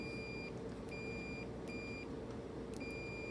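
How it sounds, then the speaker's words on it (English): Short, thin electronic beeps from a multimeter continuity test come in quick, uneven bursts over a steady background hum, faint and close. "there's a beep telling you there's a connection"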